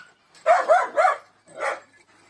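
A shepherd dog gives a few short, high barks close by on a pasture outing, three in a quick burst and one more after a brief pause.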